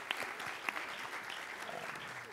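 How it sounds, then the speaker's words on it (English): An audience gives a round of applause at a tech conference talk, a dense wash of clapping with a few sharper claps standing out near the start, steady and fairly close throughout. "So I got a round of applause just for her before the talk."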